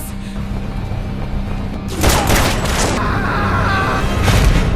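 Loud bursts of gunfire in a film shootout, with henchmen attacking, set in a building. The shots break out suddenly after a quieter rumbling stretch and continue as dense, overlapping cracks and booms.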